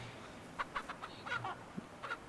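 Chickens on a ranch in the video game Ranch Simulator cluck in short, scattered bursts, several quick calls over a quiet background with no talk.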